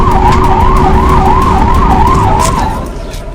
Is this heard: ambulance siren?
yes